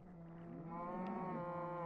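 Cows mooing in the video game Minecraft on PS4, a single drawn-out low moo held for about two seconds, fairly quiet and with no talk over it.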